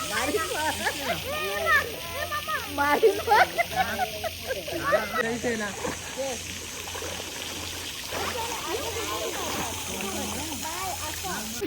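Water splashes and trickles steadily in a farmhouse swimming pool while several people talk and call out close by.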